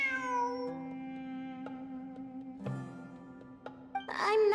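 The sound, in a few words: cat meowing in Genshin Impact video game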